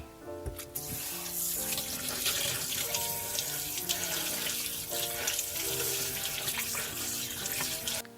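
Raw shrimp rinsed under a running kitchen tap, a steady close splash of water into the sink holding for the full duration with no talking.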